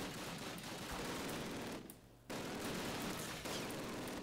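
Mounted machine gun turret firing in a Call of Duty zombie mission, dense rapid bursts of gunfire with a short pause midway, then continuous shooting again.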